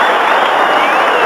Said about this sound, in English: And the applause is for Peter Motley.